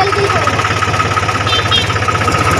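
A Mahindra 265 tractor engine runs steadily in first gear, a loud, continuous low mechanical rumble with a regular throb and no pauses.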